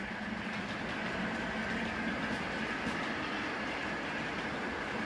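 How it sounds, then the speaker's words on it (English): A model coal train runs steadily along its layout track with a continuous rolling clatter and whirring hum, close and even throughout. "northbound coal train here"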